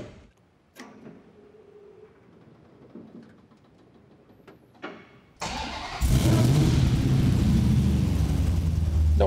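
A 1969 Dodge Charger with a Hellcat engine and 14-inch mufflers sits quiet amid faint shop clatter, then the starter cranks briefly and the engine catches, settling into a loud, deep, throaty idle.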